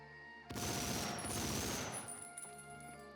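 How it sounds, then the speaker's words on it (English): MG42 machine gun fire in the video game Medal of Honor Frontline, a dense continuous burst of rapid shots erupting suddenly and lasting about a second and a half before tapering, with a faint high ringing tone over it. "Excellent sound for the MG42."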